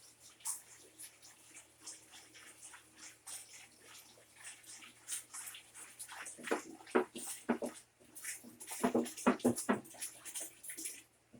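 Water splashes and pours into a fermenting bucket of sugar for blackberry wine nearby, growing louder and more turbulent toward the end, with faint background noise.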